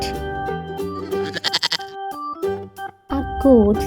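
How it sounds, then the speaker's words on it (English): A farm goat gives a wavering bleat near the end, after a quick trembling call earlier, with steady background music throughout. "A goat say ma."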